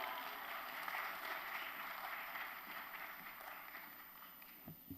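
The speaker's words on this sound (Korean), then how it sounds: "나오실 때 우리 할렐루야로 큰 박수로 맞이하시겠습니다" A church congregation at a dawn prayer service gives a warm, sustained round of applause to welcome the pastor, a soft, distant wash of clapping that fades slightly toward the end.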